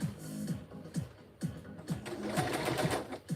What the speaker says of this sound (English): And this one we are going to sew at the 1/4 inch mark.